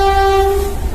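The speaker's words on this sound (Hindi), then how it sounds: "और तभी वहाँ पर ट्रेन भी आ जाती है।" Cartoon zombie train arriving with a loud, steady horn blast held for most of a second over a heavy rumbling roar, the horn fading as the rumble continues.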